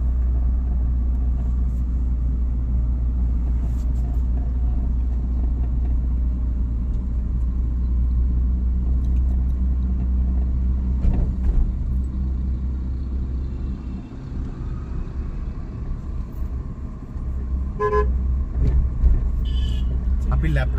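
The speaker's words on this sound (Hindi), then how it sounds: "अभी हम लोग सेकंड गियर में कार को चला रहे हैं।" A car moving along in second gear during a driving lesson, its steady engine and road rumble droning continuously near and loud beneath an instructor's spoken directions.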